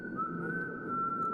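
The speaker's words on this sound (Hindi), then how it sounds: "सीटी बजा रहा है।" A man whistles a single steady, sustained high note, close and clear, over faint room noise.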